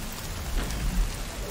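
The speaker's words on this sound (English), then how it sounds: "Oh my god, the rain is so loud." Heavy rain pours down in the video game The Cycle: Frontier, a loud, dense and steady hiss with a low rumble underneath, continuous throughout.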